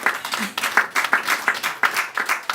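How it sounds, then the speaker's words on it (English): A small audience claps at a panel discussion, a thin, uneven patter of individual hand claps with distinct spikes, fairly close and moderately loud, carrying on steadily without voices over it. "I would briefly want all a big round of applause for all the listeners as well"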